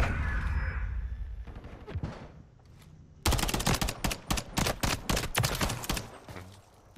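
Gunfire in Modern Warfare 3 ranked play on the Karachi map, as rapid bursts of automatic fire and single shots, loud and close, following a quieter stretch of game ambience.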